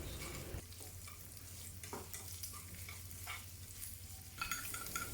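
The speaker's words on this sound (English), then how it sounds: "Brown sugar is more suitable as it will caramelize quickly, forming a slightly sticky brownish layer and helps to add color to the pork." Braised pork is stirred in a pan as brown sugar caramelizes, giving a soft, steady sizzle with occasional scraping and clinking strokes from the utensil.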